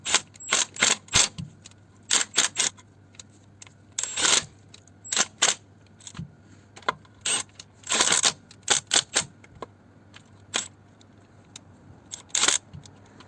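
Oil sump bolts being tightened with a ratchet on a car engine, giving rapid clicking bursts in irregular clusters, close and fairly loud over a low steady hum, with no talking.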